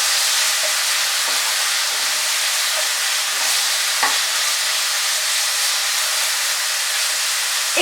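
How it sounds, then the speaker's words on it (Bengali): Marinated chicken pieces frying over medium heat in a kadai, giving a loud, even, hissing sizzle that holds steady throughout, with a faint clink or two of a utensil and no talk. "এবার এগুলোকে আমরা ফ্রাই করে নেব।"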